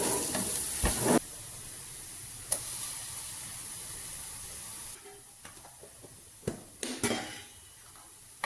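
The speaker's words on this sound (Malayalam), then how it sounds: "1 ടേബിൾ സ്പൂൺ ഇഞ്ചി വെളുത്തുള്ളി പേസ്റ്റ് ചേർത്ത് കൊടുക്കാം." Ginger garlic paste sizzling in sautéed onions for a taro stem roast, a moderate hiss with occasional sharp clinks and scrapes of a spoon on the pan, heard close with no speech.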